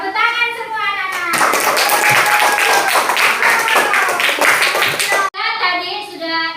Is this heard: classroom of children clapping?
yes